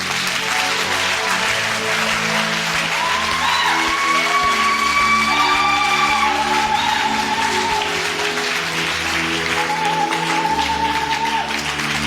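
A church congregation claps and cheers loudly, with whoops and shouts over the applause, while music plays underneath throughout.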